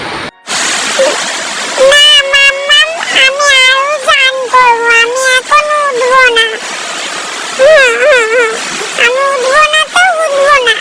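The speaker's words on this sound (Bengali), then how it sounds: "এই তো একটুখানি জল ঢেলে দিলাম" Water is poured into a small bathing basin, a brief rushing splash at the start followed by excited child-like voices and chatter that dominate the rest.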